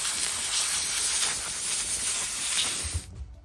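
A steam cleaner hissing at full force while cleaning a commercial go-kart, a loud continuous bright spray that runs for about three seconds and then stops abruptly, leaving a faint low rumble.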